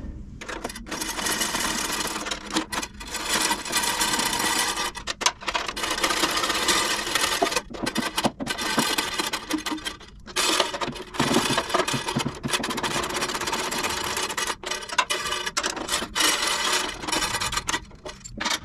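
Fasteners on a coolant overflow bottle bracket in a GT40 kit car build are tightened with a steady ratcheting, buzzing tool noise in close bursts broken by short pauses, with no talk.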